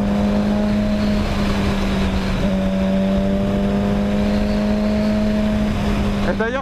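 A Suzuki GSX-R motorcycle engine drones steadily under load with a brief interruption as it shifts into sixth gear, heard from onboard over heavy wind rush.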